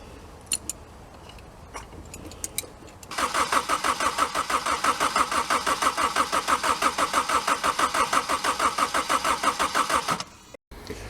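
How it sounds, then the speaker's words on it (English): A 2001 Honda CR-V with no spark cranking on the starter for about seven seconds, a loud rhythmic churning that stops without catching, after a few quiet clicks at the start. "we'll hit the ignition source and see if she starts up"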